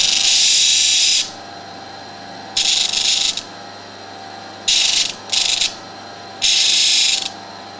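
Sanding machine chamfering a folding knife part: bursts of loud, harsh abrasive grinding, about four passes with a brief double touch, separated by the quieter steady whir of the running machine.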